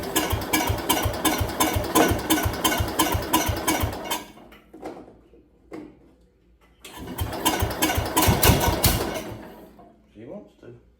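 An International Cub Cadet garden tractor engine, set to half throttle with a little choke, chugs in rapid pulses, cuts out briefly with scattered knocks, then catches again and runs close by.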